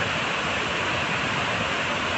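Bok Krai waterfall in Kapoe district, Ranong, Thailand, pours in a constant, full rush of falling water, steady and close with no other sounds.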